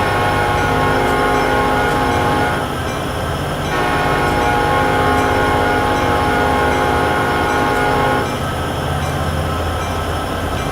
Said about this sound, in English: Let's hear this horn out here.